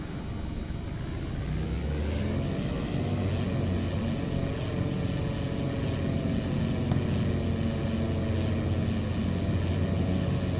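Aircraft engines drone in the FlightGear flight simulator game, a loud, steady propeller hum and rumble with shifting tonal whine, continuous throughout with no voices.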